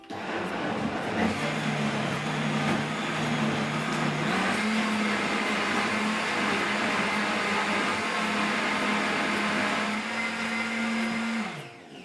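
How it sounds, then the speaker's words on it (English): An Optimum 9200 high-speed blender whirs steadily while blending key lime mousse, its motor pitch stepping up once early on, then holding a loud, even roar before winding down at the end. "Flick the blender on, and we're going to try 60 seconds to start in our Optimum 9200."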